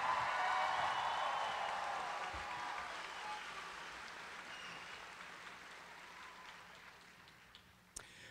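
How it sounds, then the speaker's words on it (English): Applause from a large crowd at a high school graduation ceremony welcomes the graduating class, a soft, distant wash of clapping that slowly fades over several seconds. "A lot of the crowd, one round of applause, please, for 2022."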